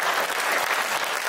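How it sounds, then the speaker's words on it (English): A church congregation claps together after a Sunday service prayer, a brief burst of warm, dense applause filling the hall, steady and close with no speech over it. "Let's give Tony a round of applause"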